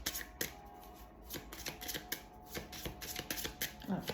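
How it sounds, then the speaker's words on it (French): Oracle cards are being shuffled by hand, a rapid run of soft riffling and slapping taps, close and fairly quiet, with no other sounds. "je remélange un peu parce que bien sûr vous allez me dire"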